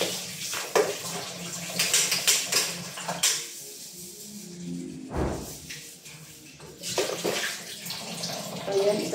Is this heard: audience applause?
no